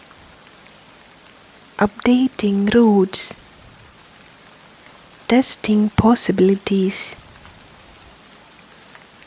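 Soft, steady night rain forms a faint, even hiss beneath a calm, quiet voice that speaks in two short stretches with a pause between them.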